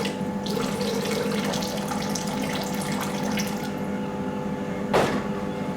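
Water runs steadily from a tap into a container for weighing out bread dough water, a continuous close hiss and splash that ends with a brief clunk near the end.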